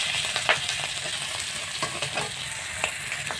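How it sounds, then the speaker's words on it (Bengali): Onions and chillies frying in oil with a little salt for egg chowmein, a steady close sizzle broken by short clicks of a spatula stirring the pan, no voices. "এটা একটু লাল লাল করে ভাজা হওয়ার জন্য রেখে দেবো"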